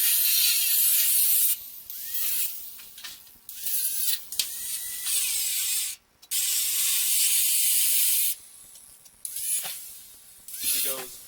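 Ratchet wrench clicking in repeated bursts while an old bumper is removed from a trailer, loud and close, with pauses and a brief silence between runs of rapid clicks.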